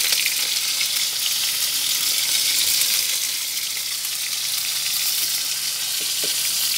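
Pointed gourd (parwal) frying in a pan for Bengali-style potol posto, seasoned with salt and turmeric, gives a steady, close sizzle that holds evenly throughout with no voices.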